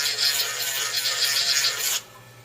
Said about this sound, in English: What one of the sanding attachments can sand them off kind of smooth.